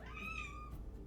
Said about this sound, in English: Such a cat.